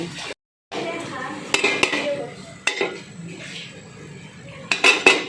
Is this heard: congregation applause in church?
no